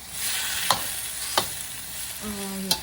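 Cabbage for an Asian stir fry sizzles in a pan while being stirred, a steady hiss broken by three sharp utensil scrapes or taps against the pan, with a brief tonal hum near the end and no talking.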